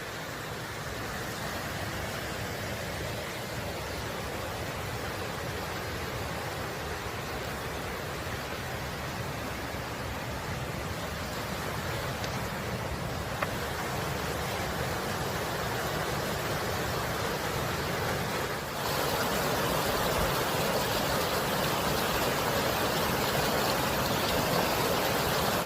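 Whitney Creek near Crabtree Meadow in the Sierra rushes as a steady, broad wash of flowing water, loud and close with no pauses, and no voices heard.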